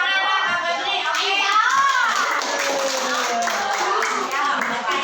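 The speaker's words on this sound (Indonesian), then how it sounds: "Ayo, tepuk tangan lah Kak Febri, oke?" Classroom clapping for a student at the front of the class, a short burst of hand claps mixed with children's chatter and a teacher's voice over steady room noise.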